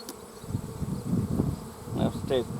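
Honeybees buzz in a soft, uneven drone around an open hive crowded with field bees, nearby and fairly faint, with a few brief louder passes.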